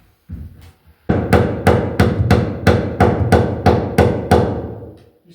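Hammer striking nails during electrical rough-in framing work, about nine sharp, evenly spaced blows in quick succession, loud and close, after a couple of lighter taps.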